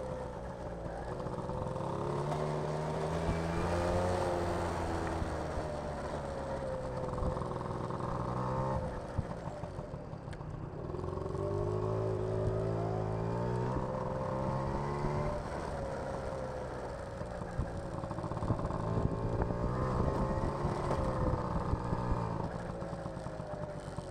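A 1982 Honda Motocompo scooter climbing a hill, its small engine buzzing steadily as it accelerates with rising and falling pitch, heard close and continuous for the whole stretch.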